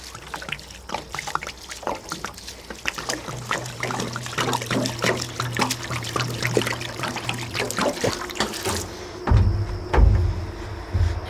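Spring water pours and trickles into a container with an uneven, splashy gurgle that continues for several seconds, then shifts to a deeper, fuller filling sound near the end; close and fairly loud, no talking.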